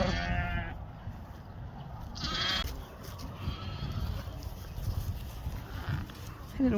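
Young lambs with foot scald bleat a few times in a farm yard, with short cries rising over background noise and a person talking.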